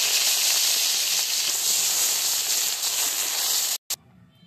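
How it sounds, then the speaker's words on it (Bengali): Eggplant slices fry in oil in a wok, making a loud, dense, steady hiss that cuts off abruptly near the end with a brief final burst. "এই কড়াইতে আমি আর একটু তেল দিয়ে দিচ্ছি, বেগুনগুলো ভেজে নিচ্ছি।"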